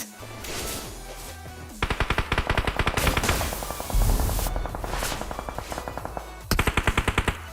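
Rapid bursts of automatic gunfire in a PUBG Mobile match, loud and close, with several rattling volleys separated by brief pauses and a heavy boom near the middle.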